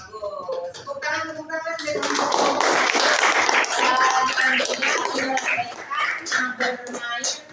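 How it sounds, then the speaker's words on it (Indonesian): Hands clapping in a classroom after a correct maths answer, a burst of many children's claps building up and continuing for several seconds, with voices mixed in. "Tepuk tangan."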